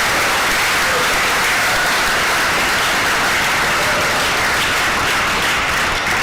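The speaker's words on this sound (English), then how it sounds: "So let's give him a round of applause." A camp audience gives kitchen manager Stan Morgan a round of applause during an evening session of a running camp, a loud, continuous wash of clapping that holds steady throughout.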